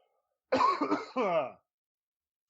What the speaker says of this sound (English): I have to cough real quick